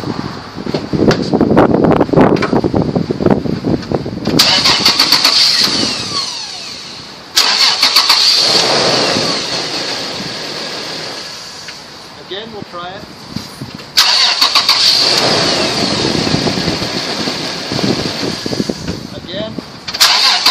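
A Toyota V6 truck engine is cranked and started three times using a MicroStart jump starter, loud close starter whirring catching into a rough idle between attempts, with a door slamming and voices over the running engine.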